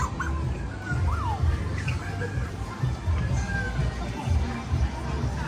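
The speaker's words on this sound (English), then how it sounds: "In front are two cute parrots" Parrots calling from the shops along a busy Chinatown night street market, sharp chirps and whistles rising above a dense crowd murmur and nearby voices.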